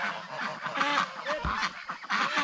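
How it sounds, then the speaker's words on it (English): Ducks and geese being herded into a pen by a teen keeper, honking and quacking in a dense, overlapping flock chorus that stays loud and close throughout, with no talk. "right now we're getting all the ducks and geese in"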